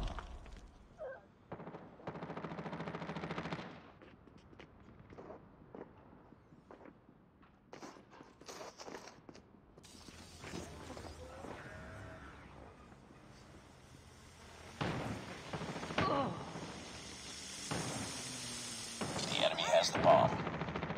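Gunfire in a multiplayer shooter video game cracks in scattered shots and short bursts, at varied distances, mixed with footsteps and game voice callouts, and it grows busier toward the end.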